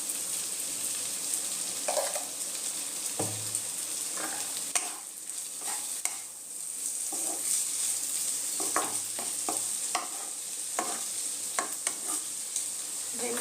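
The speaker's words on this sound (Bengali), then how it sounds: "ভেন্ডির সাথে মশলাটা আমি একটুখানি ভেজে নেব" Okra sizzles with spices in a hot pan for a restaurant-style bhindi do pyaza, with steady frying crackle and repeated scraping stir strokes; no one talks.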